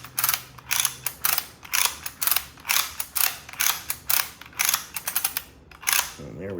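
A retractable ratchet strap is cinched tight with steady, evenly spaced rounds of loud, close clicking ratchet strokes, about two per second, with no talking.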